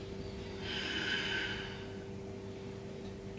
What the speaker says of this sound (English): can I hear the breathing?